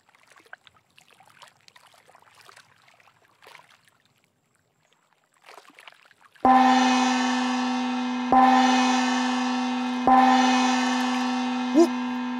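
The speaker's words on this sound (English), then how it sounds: "That's the sound of the gong." Three deep, ringing gong strikes, each with a sharp attack and long shimmering sustain, follow about six seconds of quiet rustling; the strikes come roughly two seconds apart and the tone swells slightly near the end.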